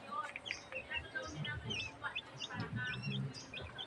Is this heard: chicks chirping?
yes